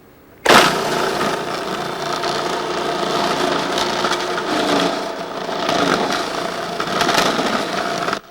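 A 1995-era food processor starts abruptly and shreds well-chilled mozzarella fed through the large feed tube, a loud whirring motor with gritty grinding that swells and dips as the cheese passes the blade, then cuts off.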